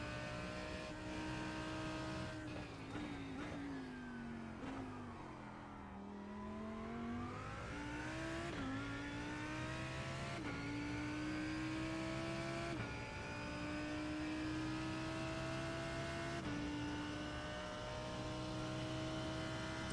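A racing-game race car engine revs steadily under full throttle, its drone rising and dipping in pitch through shifts, continuous and fairly loud with no talk over it.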